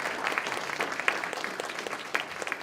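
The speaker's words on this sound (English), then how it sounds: "he deserves a round of applause" Scattered clapping from a modest audience at a mayoral debate, a short burst of individual claps heard fairly close with no talking.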